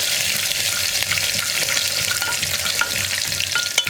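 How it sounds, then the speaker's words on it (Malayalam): Crushed ginger stirred and fried in a pan for a pressure-cooker chickpea (kadala) curry makes a loud, dense, continuous sizzle with quick stirring scrapes throughout, close and with no voices. "ഇഞ്ചി മാത്രം ചേർത്തിട്ട് ഒന്ന് ഇളക്കി കൊടുക്കുക."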